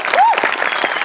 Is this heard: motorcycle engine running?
no